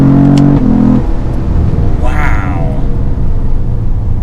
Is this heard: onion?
no